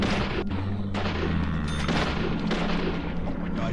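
Gunfire in a detective video game, with booming shots and a continuous low rumble of game audio and effects across the clip.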